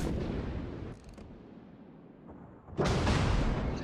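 Naval guns fire from the Des Moines cruiser in the World of Warships game. Heavy booming shots and rumbling fire a few at a time, with a loud close salvo near the end.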